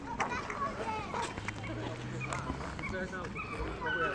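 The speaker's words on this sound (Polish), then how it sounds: "pies to jakiś szczeka" A dog barks somewhere in the background while someone plays Pokémon GO on a phone. Children's voices and steady talk run over the bark throughout.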